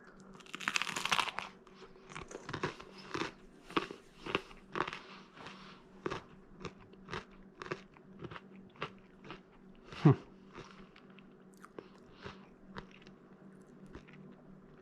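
Crunchy Bagel Bites pizza snacks cooked in an Ooni Koda 16 pizza oven are bitten and chewed close up, an initial loud crunch followed by a steady series of rhythmic crisp chews over about fifteen seconds.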